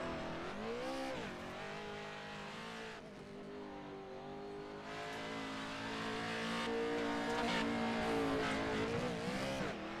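Pro 2 Lite race trucks lapping Crandon International Raceway, a steady, loud, continuous engine roar with rising and falling revs as they power around the dirt track, with no voices over it.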